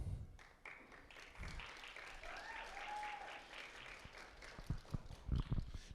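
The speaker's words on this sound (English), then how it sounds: "Got a good cheering section here today." An audience at a Hometown Heroes award event breaks into applause for a nominee, a sustained wash of clapping with some cheering that swells toward the end.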